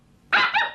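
A dog lets out a single sharp bark at close range, loud and brief after a moment of near silence.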